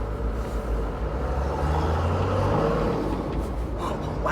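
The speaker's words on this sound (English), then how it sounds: "Oh, wow, you can hear the turbo spool a whole lot more." A straight-piped, diesel-swapped Toyota FJ60 pulls away in first gear, its throaty exhaust rumbling steadily and loudly, with a rising turbo whistle climbing near the end.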